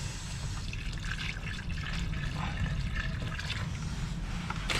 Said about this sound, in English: So now we're just going to go ahead and add some water.